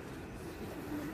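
A wild pigeon or dove coos softly in the evening outdoors near buildings in Taiwan, a low steady call over faint background ambience, with no talking.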